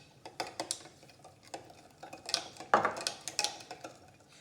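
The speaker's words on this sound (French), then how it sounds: "Dans de l'eau tiède, environ 35 degrés, je dilue la levure déshydratée et le sucre." A spoon stirs dry yeast and sugar into lukewarm water, about 35 degrees, in a bowl, giving a series of light, uneven clinks and scrapes close by, with no talking.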